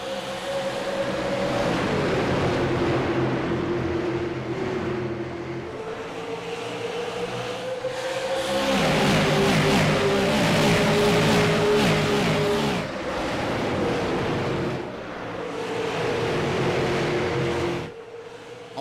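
Super late model race cars roar along an Iowa track, engines revving and rising in pitch as they accelerate under green, a loud continuous multi-car drone swelling and fading as the pack passes, with no talk over it.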